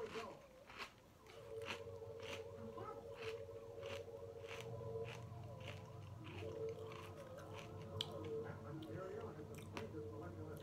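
Close, crunchy chewing of hard, rocky-textured cereal with repeated bites and grinding, fairly quiet, with a few soft rustles in the background.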